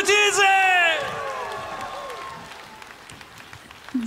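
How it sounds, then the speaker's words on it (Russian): Concert audience applause at a solo show in a city hall, a burst of clapping with some cheering beneath a sustained musical chord that fades, the crowd continuing steadily and fairly loud. "А на сцену я сейчас хочу пригласить, друзья, под ваши бурные аплодисменты."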